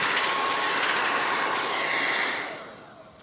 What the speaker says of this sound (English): All right, so now blow dryer.